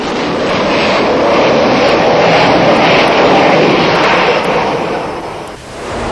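A fully armed Grumman A-6 Intruder attack jet, weighing about 27 tonnes, roars on an aircraft carrier catapult. The loud, steady broadband roar holds throughout and dips briefly near the end, with no voices.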